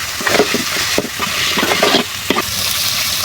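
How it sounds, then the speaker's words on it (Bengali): Shrimp fry in a pan with already-browned garlic and onion, a steady close sizzle broken by several scraping, clattering strokes as the mix is stirred, for a Bengali shrimp and bottle gourd dish. "চিংড়ি মাছটা আমি হালকা ভেজে নেব।"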